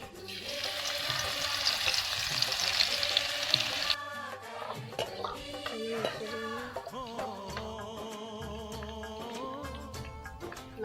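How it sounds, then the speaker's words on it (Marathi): Garlic and cumin paste with mustard seeds hitting hot oil in a kadhai, a bright steady sizzle for a few seconds that then drops to quieter bubbling frying mixed with other kitchen sounds. "लसण जिऱ्याची पेस्ट टाकू"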